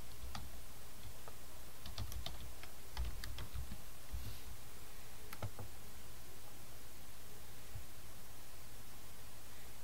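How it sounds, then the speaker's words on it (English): Keys tapping on a computer keyboard while an email address and password are entered, with short bursts of faint clicks over a steady hiss, no voices. "So you would type in your email address. And then it would ask you about your password."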